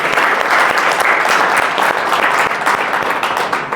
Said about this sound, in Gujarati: બધા માટે જોરદાર તાળી થઈ જાય